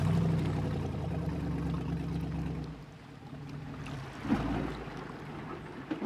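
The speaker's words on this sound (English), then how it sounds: "There's the tug, Charlie." A tugboat on open water, heard as a steady low engine rumble with lapping water that thins out midway, then a brief knock and continuing wash from nearby.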